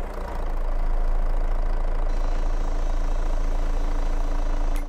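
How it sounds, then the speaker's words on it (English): A tractor engine in the Farming Simulator video game runs at a steady, loud idle, a continuous low mechanical drone with no talking. "Start the engine, I said."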